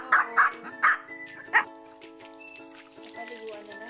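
Pringles, a pet dog about to be bathed, lets out four sharp close barks in quick succession, then quieter whimpers and yips follow under a faint ringing tone.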